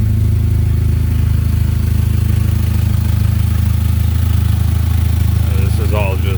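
A 1998 Mitsubishi Eclipse GS with the 2.4 engine and a front exhaust leak idles close by with a loud, steady, throbbing rumble; a voice briefly speaks near the end.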